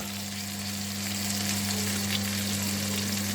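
Onions frying in a pan with black pepper, a steady dense sizzle holding at an even level throughout, close and fairly loud, with a constant low hum underneath and no talking.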